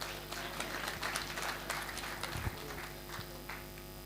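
Audience at a government consultative forum on decentralisation claps steadily for a speaker, a dense patter of hands that runs through the whole stretch, moderately loud and close.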